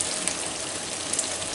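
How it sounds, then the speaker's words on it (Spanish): Two cartons of cooking cream poured into a pan over low heat for smoked bacon pasta sauce, a steady bubbling, sizzling wash of liquid hitting the hot pan, with no talking. "ahí que echamos los 2 cartoncitos de nata"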